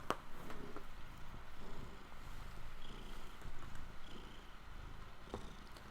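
A cat purrs close by in a steady, low continuous rumble that runs unbroken, with faint background game sounds underneath.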